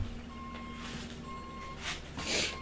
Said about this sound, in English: You're gonna hear the beep, beep, beep, beeping